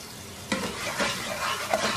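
Spoon stirring semolina halwa with sugar, saffron milk and ghee as it cooks and thickens in a pan, a continuous close scraping and soft sizzle with a few sharper spoon knocks, no talk.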